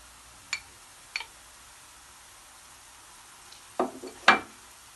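Tomato paste fries with sautéed onions in a pan, giving sparse, soft crackles and pops that grow to a couple of louder sizzling bursts near the end.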